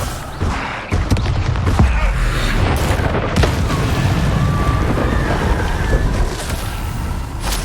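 A Confringo blasting spell goes off in Hogwarts Legacy, a loud booming explosion with a rumbling low roar that fills the scene, mixed with a few sharp impacts and background game noise.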